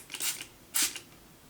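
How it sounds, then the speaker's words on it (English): Cosmetic setting spray from a Halloween gothic beauty collection released as two short, soft hissing bursts of fine mist, close and quiet, with a brief pause between them. "So let's see what the spray is like first."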